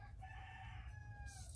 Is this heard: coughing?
no